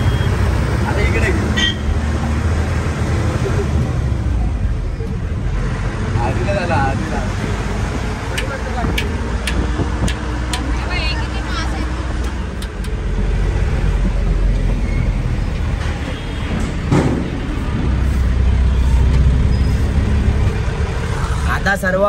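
Road traffic in Hyderabad with buses and trucks, a continuous loud low rumble of engines and passing vehicles, with occasional higher clatter and people talking over it throughout.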